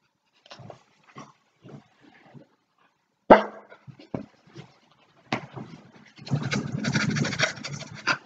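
A man imitates a dog with his voice, giving short breathy pants in a loose rhythm, then a sharp bark-like burst, followed by a longer run of rapid, loud, rough panting, close and alone.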